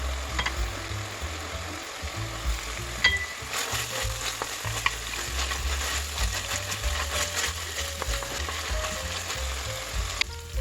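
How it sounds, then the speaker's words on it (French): Spices stir-frying in hot oil in a pan for an African-style soy sauce rice, a steady close sizzle broken by scraping and clicking from the utensil as it is stirred; no talk. "j'ajoute les épices et je vais tourner environ 3 à 5 minutes"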